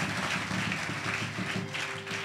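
A church congregation applauds during a worship service, steady dense clapping from many hands at moderate distance, sustained throughout with no clear break.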